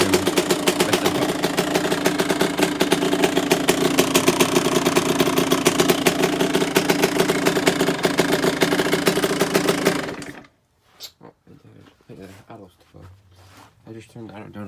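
A two-stroke dirt bike engine idles steadily and loudly while warming up for about ten seconds, then cuts out abruptly, leaving quieter voices talking.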